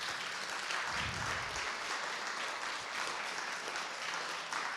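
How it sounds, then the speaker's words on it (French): An audience applauds three speakers at the close of a talk, a steady, even patter of clapping from a seated crowd, moderately quiet and continuous. "Je pense que les trois intervenants méritent nos applaudissements."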